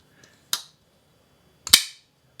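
RJ Martin Q36 custom pocketknife blade flipping open on bearings: two sharp, loud, close snaps about a second apart, each ending quickly in a brief metallic ring.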